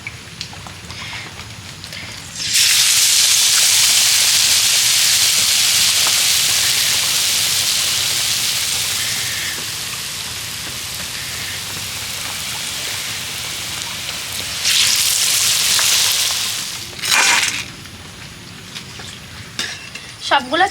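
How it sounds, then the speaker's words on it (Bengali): Banana flower chops fry in hot oil, giving a loud, steady sizzle that swells, eases and surges again, with brief stirring noises near the end and no talk. "পরের বারের চপগুলো একই রকমভাবে ভেজে নেব।"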